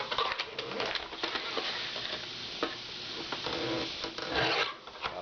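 Aluminum pieces are cut off one by one for homemade plexiglass capacitors for Tesla coils, giving a close, continuous rasping and scraping with repeated strokes and short sharp bursts.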